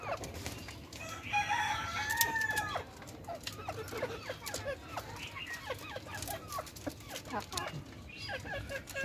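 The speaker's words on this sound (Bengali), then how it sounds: "এই যে পাশের মোরগটাও বড় মোরগ, এটা গলা ছোলা মোরগ।" A naked-neck rooster crows in a poultry cage, a drawn-out call near the start followed by scattered clucks and bird sounds from other caged chickens over a low background hum.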